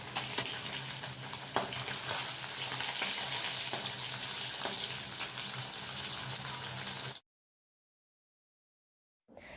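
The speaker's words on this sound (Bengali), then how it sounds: "গ্যাসের ফ্লেমটা মিডিয়ামে রেখে কই মাছগুলোকে খুব সুন্দর করে ভেজে নিয়েছি" Koi fish frying in oil over a medium gas flame, a steady close hiss and crackle of sizzling that runs for about seven seconds, then cuts to silence.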